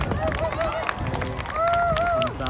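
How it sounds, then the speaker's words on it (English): An outdoor airshow crowd claps steadily in the open air, with a loud, sustained patter of many hands under tonal public-address sound. "keep clapping them in."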